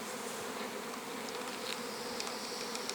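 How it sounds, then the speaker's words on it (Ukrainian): A stray bee swarm arriving at an apiary in the evening fills the air with a dense, steady buzzing hum from countless insects, loud and unbroken. "Рій у мене на пасіці не виходив, зате зате схоже, що якийсь прилетів чужий"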